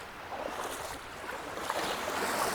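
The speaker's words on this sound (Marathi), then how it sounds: "खूप जोरा जोराच्या लाटा येत आहेत" Sea waves break at Varsoli Beach in Alibag as a broad, soft rushing wash that swells slightly louder toward the end, with no voices present.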